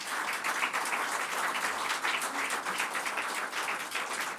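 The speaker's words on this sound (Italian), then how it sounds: "Carlo Merenti, a cui vi chiedo di dedicare un applauso" An audience at a cycling team event in honor of a sports director breaks into steady, sustained applause, dense clapping from many hands that holds at a lively level throughout.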